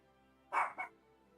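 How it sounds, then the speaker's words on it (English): A single dog gives two quick barks in a row, fairly close but moderate in level, standing out against a quiet background hum with no talking. "And now the dog is barking."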